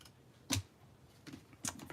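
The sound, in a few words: scissors snipping paper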